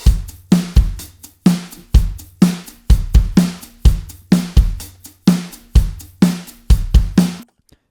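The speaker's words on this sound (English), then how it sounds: "And so now we have our process drums that sound like this." Processed drum loop with crushed, smacked and lo-fi layers blended together; punchy kick and snare hits repeat in a steady rhythm, loud and alone, stopping abruptly at the end.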